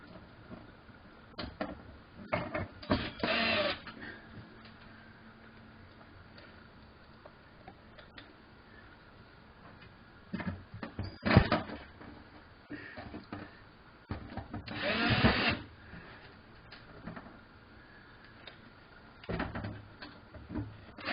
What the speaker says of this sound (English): Reattach the 3 screws.